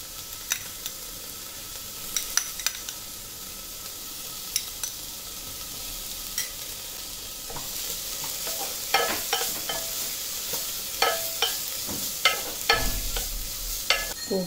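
Finely chopped vegetables, including green beans, corn and cabbage, fry in a pan for a soup with a soft, steady sizzle, broken by frequent sharp clicks and scrapes as a utensil stirs them. No one speaks.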